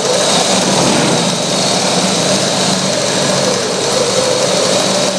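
A sewing machine runs a steady, fast stitching whir at close range while sewing a run-and-machine stitch on fabric for a shirt or lungi, continuous and loud throughout with no talk.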